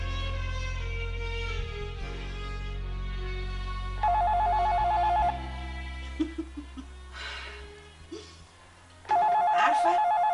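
A telephone rings loudly and repeatedly in bursts over a musical score in an Egyptian TV drama scene, its bell tone clear at the start and again near the end.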